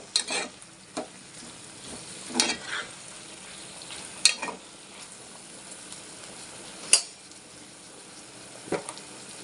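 Ginger-garlic paste frying in a pan with brinjal and raw banana pieces: a low, steady sizzle broken by scattered spoon-against-pan clinks and stirring scrapes, close and fairly quiet, with no talking.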